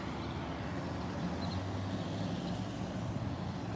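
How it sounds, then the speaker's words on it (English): A garbage truck drives by on a street, a steady low engine rumble with road noise and a faint hiss of air brakes, moderately near and unbroken throughout. "Every time I see a garbage truck,"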